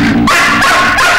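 A dog in a Kannada comedy film scene lets out one loud, close bark that turns into a short whining yelp, brief and sharp with no speech over it.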